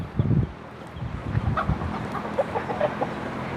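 Village chickens on a cold rural homestead cluck and call close by in short, scattered bursts, with a faint crow in the mix over a steady background hum.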